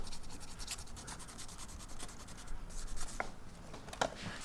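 Close, steady rubbing and scratching strokes of fine wet-sanding abrasive on a guitar's hard finish, repeating rhythmically with a few sharper scrapes near the end.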